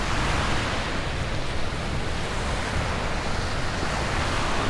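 Ocean surf rolls onto the shore at Kaloko-Honokōhau Historic Park in Hawaii, a steady, full wash of breaking waves with some wind, loud and continuous with no voices.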